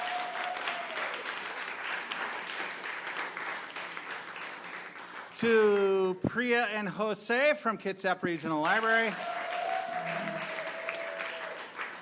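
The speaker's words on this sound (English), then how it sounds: "Round of applause, first of all, for Kristen and Bailey from the Cloverleaf." An audience at a storytelling night in Bremerton, Washington claps steadily throughout, a dense wash of hands that continues under someone speaking through the middle.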